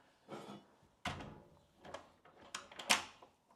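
A fire door swings shut onto its latch within a door liner during fitting of a small cloakroom, giving several close, quiet knocks and clicks spread over a few seconds, with a sharper latch-like click near the end.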